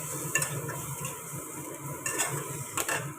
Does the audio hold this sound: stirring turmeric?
yes